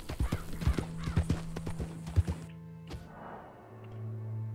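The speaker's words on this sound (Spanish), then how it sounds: "Es que el caballo se me enfada, ¿eh? Si le hago correr de más." Horse hooves clip-clopping in quick, loud rhythmic beats, then slowing and stopping, followed by a low snort or whinny, all from a horse in the Red Dead Redemption 2 video game.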